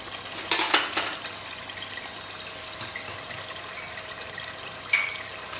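Dhaba-style chicken curry masala frying in oil, a soft steady sizzle with a few louder stirring scrapes near the start and one sharp clink toward the end.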